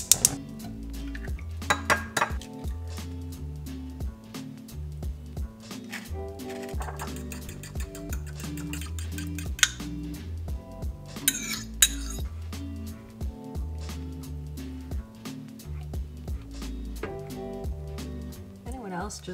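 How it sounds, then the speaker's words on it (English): Scrambled eggs being cooked, with utensils repeatedly clinking and scraping against a pan and dishes in an irregular rhythm, close by, while a person talks intermittently. "this is probably just ASMR of me cooking eggs"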